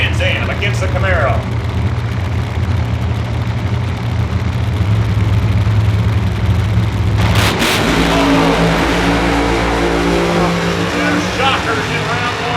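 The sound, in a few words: Trans Am and Camaro drag racing, engines revving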